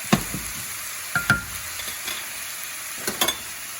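Cooked linguine being stirred and tossed with clam sauce in a pan, a few soft wet scrapes and clinks of a utensil at scattered moments with quiet gaps between, close and fairly faint.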